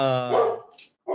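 A dog barks close by indoors, one long drawn-out yowling bark then a short sharp second bark, loud against a quiet room.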